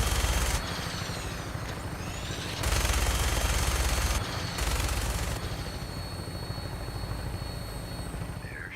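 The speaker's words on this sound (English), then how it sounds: "there's nothing more satisfying than a minigun with unlimited ammo" Sustained minigun fire in Fallout 4, a dense rapid rattle with a low droning spin, loud and continuous, surging louder in two bursts midway before easing back to a steady roar with a faint high whine.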